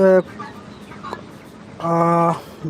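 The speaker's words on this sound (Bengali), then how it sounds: "এই যে মুরগিগুলো" Hens cluck nearby in a short burst, with one sharp call at the start and a louder clucking phrase toward the end, over a faint background.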